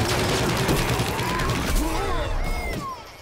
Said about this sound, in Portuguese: Foi um tiro carregado.